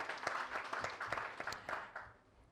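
Convention audience applauding at the Kenya Diaspora Homecoming Convention: a fairly soft, scattered patter of handclaps with distinct individual claps that thins and fades out toward the end.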